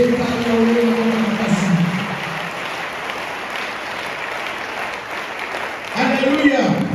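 A church congregation applauding during a Sunday service, a loud, dense, continuous wash of clapping from many hands that holds steady throughout, with a voice shouting over it at the start and end.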